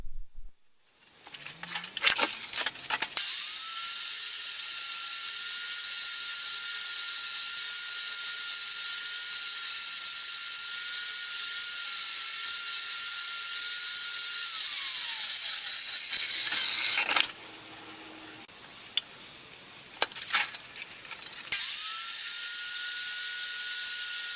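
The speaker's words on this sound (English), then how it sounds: "To expedite a few of the smaller curves, I decided to just grind them out." A grinder shaping the small curves of a hand-forged steel leaf blade: a steady, high, hissing whine that holds for about fourteen seconds, stops, then starts again after a brief pause, close and loud.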